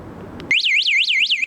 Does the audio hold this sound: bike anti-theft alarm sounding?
yes